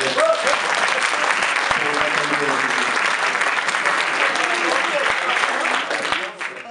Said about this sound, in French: que je vous demande de tous bien applaudir